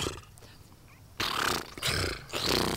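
A person's voice imitates a tiger's chuff greeting, making a raspberry-like throaty sound. After a quiet breathy start come two or three loud, raspy snorting bursts, close up.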